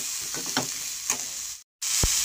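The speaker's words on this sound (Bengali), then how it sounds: "নুন হলুদগুলোকে আমি ভালো করে আলু বেগুনগুলোতে মিশিয়ে নেব।" Salt and turmeric being stirred through potatoes and eggplant in a hot pan, a steady hiss of frying with a few spatula scrapes and a brief dropout before a final thump.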